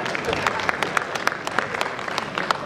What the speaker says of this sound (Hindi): अच्छा, ताली बज रही है